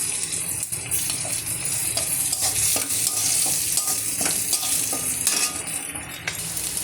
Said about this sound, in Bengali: আমি জেনে শুনে কাঁচা লঙ্কা দিলাম যে ফেটে যেন আমার গায়ে এসে লাগে